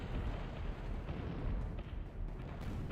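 Muffled, rumbling booms of repeated artillery fire roll on continuously in the real-time strategy game Zero-K during a 3 vs 3 match, heard as a dense, low, fairly quiet barrage.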